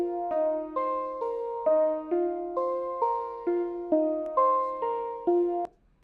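A Nexus pluck synth plays a basic trap melody over a chord, with bright repeated plucked notes falling in a steady rhythm and stopping near the end, alone without voices.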